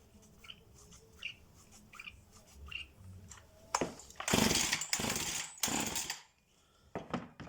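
A Husqvarna 353 chainsaw with a newly replaced fuel line and a habit of dying at low revs: quiet outdoor air with birds, then loud, close revving bursts for about two seconds, cutting out, and a brief blip near the end.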